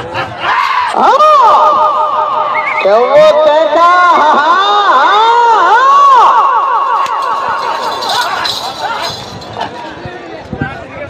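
Loud crowd at a memorial event, with many sharp whistles rising and falling in sweeping arcs over a dense roar of voices, staying strong throughout and thinning slightly near the end.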